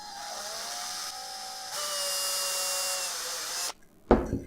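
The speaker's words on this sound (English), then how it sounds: "So I'm just gonna put some metal polishing compound on the part, put it in, just take a drill." A drill spins an engine part coated in metal polishing compound while the Vespa Piaggio Ciao engine is being rebuilt, giving a steady whine that shifts pitch and then cuts off, followed by a brief clack.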